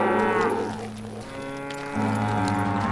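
Cattle in the Western game Call of Juarez: Gunslinger let out long, loud, close moos, one drawn-out call fading and a second starting near the end, with no talking.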